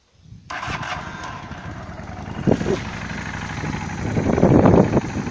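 A Honda Shadow Slasher motorcycle engine cranks and catches on a cold start with the choke pulled, then idles roughly and revs up, loud and close.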